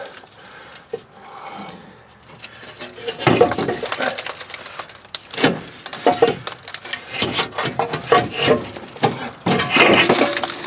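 An old exhaust manifold being wiggled off its studs on a Nissan Titan during a longtube header install: repeated metallic clinks, clunks and scraping knocks, close and irregular, growing busier and louder over several seconds.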